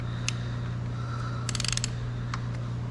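Ratchet wrench clicking on the bolts of a 1997 Mitsubishi Eclipse GS-T, quick ratcheting taps over a steady hum, with a brief rapid run of clicks near the middle.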